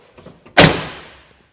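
An old truck door shuts once with a single solid slam that rings briefly and fades, preceded by faint handle clicks.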